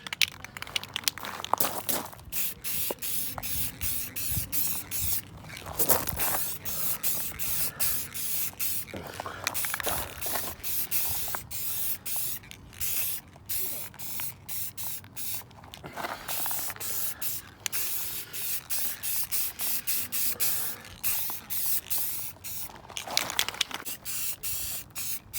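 Gloss lacquer paint sprays onto a rear bash bar in repeated hissing bursts of a few seconds each, with short pauses and the faint clicks of the can between passes.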